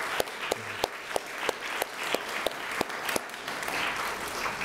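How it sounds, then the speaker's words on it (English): At a civic flag-raising ceremony for Black American heritage in Springfield, an audience applauds with a moderate wash of clapping. Scattered sharp individual claps stand out above it, and the applause grows slightly fuller toward the end. "Let's give them a big round of applause."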